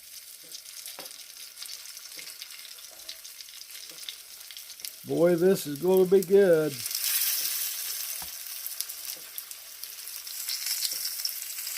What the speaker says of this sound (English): I'm adding olive oil to my frying pan.